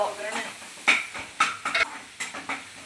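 A tempering of spices sizzles in a pan while pasta is cooked, with short sizzling bursts and stirring scrapes repeating every half second or so, close by and moderately loud.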